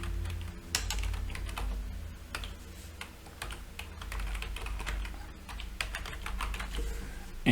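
Typing on a computer keyboard, a continuous run of close, crisp key clicks in irregular bursts over a low background hum, with no talking.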